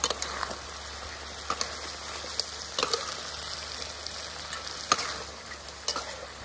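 Pickled crab torn into pieces is stir-fried with young chilies, giving a steady, close sizzle of frying with scattered scraping clicks from stirring and no talk.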